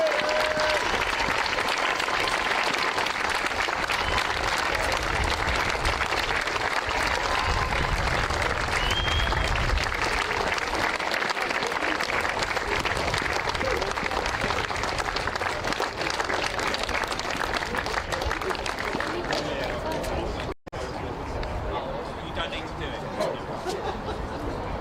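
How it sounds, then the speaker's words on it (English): A crowd at a 24-hour kart race at Buckmore Park applauds the winning team approaching the podium, with dense continuous clapping and cheering throughout, loud and close, briefly dipping near the end. "Keep the applause going as they enter the podium, guys"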